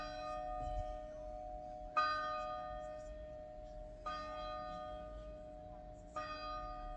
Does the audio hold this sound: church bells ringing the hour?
yes